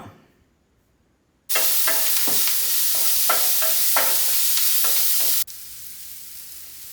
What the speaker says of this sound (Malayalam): അപ്പോൾ ദാ ഇനി മരത്തിൻ്റെ ചട്ടുകാണ്, ഒന്നാക്കി വഴറ്റി കൊടുക്കാം.